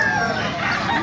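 A chicken rooster crows loudly at a market, a single sustained crow lasting the full second and close by, over a busy background.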